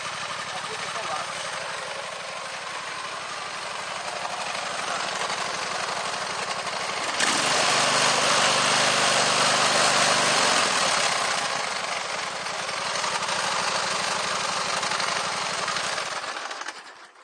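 A Gravely tractor engine fitted with a homemade exhaust runs steadily and close for the whole stretch, a rough, loud drone that swells into a harder, throatier roar in the middle before settling and cutting off at the end.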